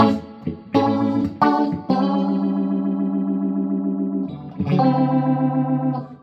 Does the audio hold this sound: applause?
no